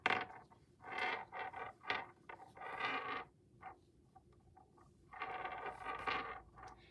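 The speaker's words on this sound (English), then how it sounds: "needle is rattly today." Knitting needles rattling and clicking against each other while stitches are cast on, in close, uneven bursts of creaky clatter with short pauses between them.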